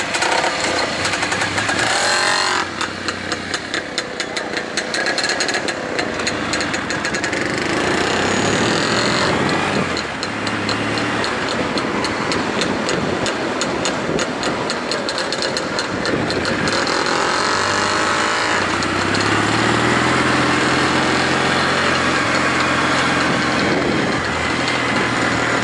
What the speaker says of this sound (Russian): Это по-другому мотор совсем работает.